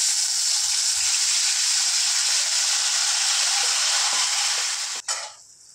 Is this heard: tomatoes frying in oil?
yes